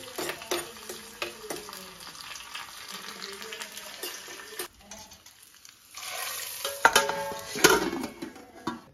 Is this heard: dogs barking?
no